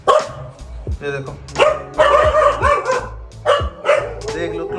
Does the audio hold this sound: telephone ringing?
no